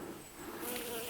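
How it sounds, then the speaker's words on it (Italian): Bees buzzing around flowering violet Catania cauliflower and Sicilian broccoli in a field, a steady close drone that swells slightly as insects pass near. "State vedendo le api che fanno sempre il suo lavoro, guardate"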